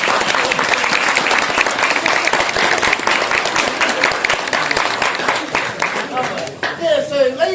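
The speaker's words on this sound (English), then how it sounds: "Ladies and gentlemen, how about a big round of applause for your chef" A crowd at a Maori village cultural evening in Rotorua, New Zealand, applauds the chef with loud, dense, continuous clapping. Near the end the clapping thins and a few voices and a whistle-like cry rise over it.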